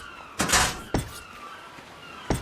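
A door opening in the video game Ark Survival Evolved: a sliding whoosh followed by a sharp knock, then another thump a couple of seconds later, moderately loud with no talking.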